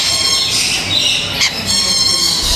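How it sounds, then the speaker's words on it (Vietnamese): Parrots in an aviary at a Phu Quoc safari park give a sharp squawk against a steady, noisy outdoor background, with a brief harsh call standing out midway. "chim con vẹt"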